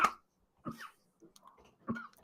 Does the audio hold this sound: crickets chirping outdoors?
no